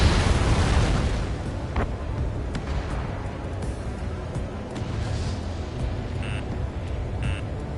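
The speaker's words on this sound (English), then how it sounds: "Missile hit." Missile impact blast in the aerial combat game Ace Combat 7: a loud, rumbling explosion at the start that slowly decays into a sustained roar of combat noise, with faint distant pops later.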